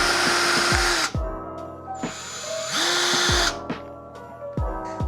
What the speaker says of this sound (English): we're gonna take our drills and I'm just going to eyeball where I think the center is on these tennis balls